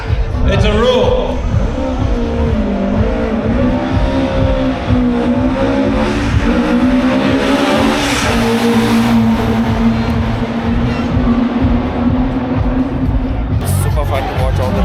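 A Mark II Escort drives past at a Coventry motor festival, its engine a loud, continuous rumble with rising revs over crowd babble and nearby talk.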